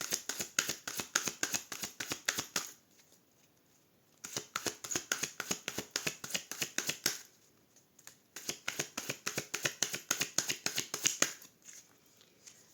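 A tarot deck is cut and shuffled by hand, giving quick crisp card riffles and flicks in three bursts separated by brief pauses, close and fairly quiet.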